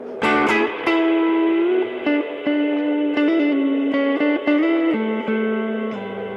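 Electric guitar through an IK Multimedia ToneX and BOSS GT1000 with only reverb engaged, playing sustained clean notes and chords that ring out with a reverberant tail, with sharp new attacks every second or so and no talking.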